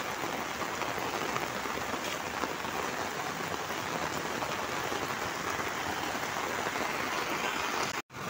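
Heavy monsoon rain pours down in Lakhimpur, a dense, even roar of drops on surfaces that holds unbroken and loud until a brief cut near the end.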